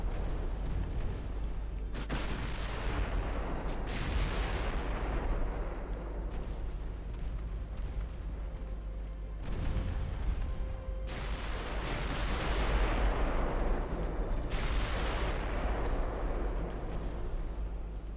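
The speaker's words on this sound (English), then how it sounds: "those Mark IV 7-inch guns are starting to tear holes" Naval gunfire from Mark IV 7-inch guns in Ultimate Admiral Dreadnoughts, several deep booming salvos spaced seconds apart, each trailing off in a long rumble over a steady low drone.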